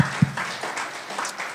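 Church congregation applauding during a Spanish-language worship service, a brief burst of scattered clapping that stays fairly soft and fades in and out over the moment.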